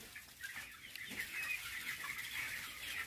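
Broiler chickens about 24 days old cluck and chatter together inside a poultry farm shed, a faint, continuous mass of overlapping bird calls with no voices over it.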